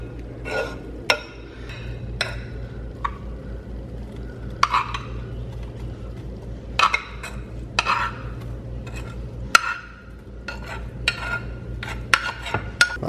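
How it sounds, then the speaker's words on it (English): A fork scrapes and stirs freshly boiled spicy black bean quinoa in a pot, giving repeated light clinks and scratches of metal on cookware over a steady low hum, with no talking. "Let's fluff this up with a fork."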